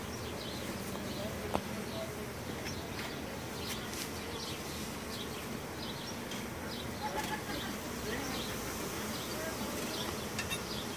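Honeybees swarm and buzz around a hive being smoked to drive them back inside, a dense steady outdoor drone with scattered faint clicks and a few soft bird or handling sounds.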